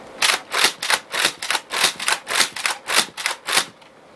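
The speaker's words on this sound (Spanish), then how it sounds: "Ahora les enseñaré Rapid Fire." A quick run of about a dozen sharp shots from a Nerf Raider toy foam blaster fired in steady, rapid succession, close by and loud, with no talking.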